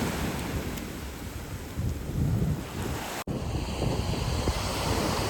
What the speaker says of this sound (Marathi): समुद्राच्या लाटा बघू शकता आमचं हे जे बंदर आहे ते लाटा येतात